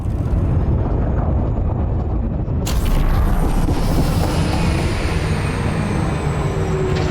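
A heat sink ejects from a Krait spaceship in Elite Dangerous: Odyssey, a sudden loud whooshing burst that cuts through a steady deep rumbling ship hum and then trails off into a sustained hiss with faint tones.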